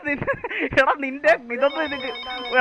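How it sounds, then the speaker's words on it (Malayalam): A phone rings during a roleplay video game, its tone sounding repeatedly beneath close, overlapping speech. "അതിന്റെ ഇടയ്ക്ക് ഫോൺ വിളിക്കണടാ ആരാണ്ട്"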